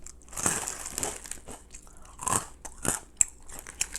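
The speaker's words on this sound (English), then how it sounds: "It's just crunchy. I don't taste no crab flavor" Crunching a hard crab-flavored Ukrainian snack, a series of loud close bites and crisp crunches in irregular bursts, with quieter chewing between them.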